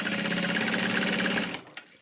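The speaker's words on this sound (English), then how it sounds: "And I'm going to sew from the side" A sewing machine runs a steady line of topstitching on fabric for about a second and a half with a fast, even mechanical chatter, then stops, followed by a single faint click.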